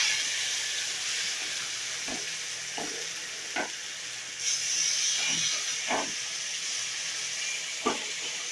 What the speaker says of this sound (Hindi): और इसके बाद मैं इसमें डाल दूंगी जिंजर और गार्लिक का पेस्ट।